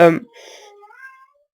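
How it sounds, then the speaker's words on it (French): A cat meows once, a short rising call following a loud burst at the very start, heard close and fairly clear. "c'est juste le chat qui fait n'importe quoi."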